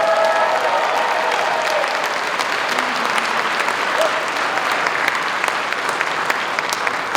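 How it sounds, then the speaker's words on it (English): A packed room at a New York State Assembly inauguration claps hard and steadily for several seconds, a loud, dense wash of applause with scattered sharper claps and a few faint voices mixed in. "Clap it up."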